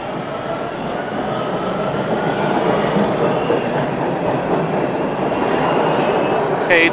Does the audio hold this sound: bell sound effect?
no